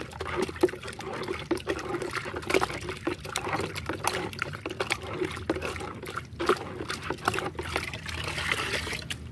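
Fertilizer solution is stirred by hand in a container of water, producing close, continuous sloshing and trickling with irregular splashy swirls throughout.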